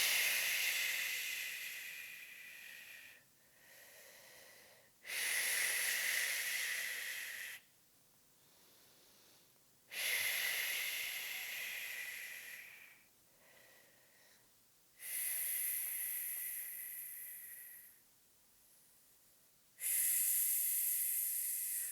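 Slow, deep breaths during a pregnancy pelvic pain exercise: long airy hissing exhales alternate with quieter inhales in a steady cycle, close and clear, with no talking.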